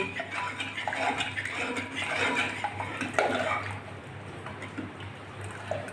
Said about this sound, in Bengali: ডাল আমি সুন্দরভাবে ফুটিয়ে নিয়েছি হাতা দিয়ে একটু ঘেটে দিচ্ছি